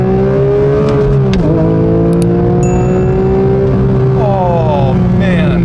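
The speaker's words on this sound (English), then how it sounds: "man, what a mighty, mighty engine." A powerful 2022 Porsche 911 GT3 Touring engine runs loud and close, its tone holding steady then climbing as it revs up, with a brief shifting blip midway.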